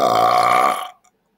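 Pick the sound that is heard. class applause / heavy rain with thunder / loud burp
loud burp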